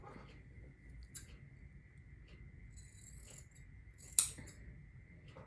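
Quiet metallic clicks and snips of scissors during quilt block sewing, ending in a sharper clack as they are set down on a hard surface.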